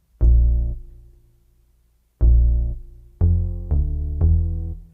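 A plain acoustic bass line from a Roland MC-303 groovebox follows the chords. Two long, decaying plucked notes are followed by three quicker ones, deep and upfront with no other sound.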